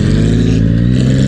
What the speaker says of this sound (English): Mr. Gokunyong's exhaust is always damn bloody loud.